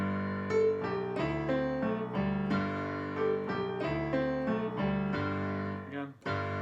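A solo piano plays a descending New Orleans-style riff, a bouncy rolling figure of chords and a low bass line, close and moderately loud with no talking.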